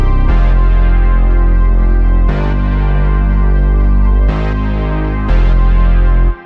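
Atmospheric arpeggiated synth pad over a thick sustained bass, with soft breathy vocal textures blended in; loud, dense and continuous, swelling at each chord change before cutting out at the end.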